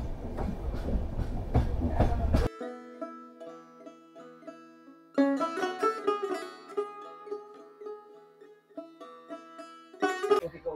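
The 12378 DN Padatik Express runs on rails with a loud, close rolling rumble for the first couple of seconds, then the sound cuts abruptly to music.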